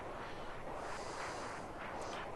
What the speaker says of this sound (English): you basically intercept the missiles with explosions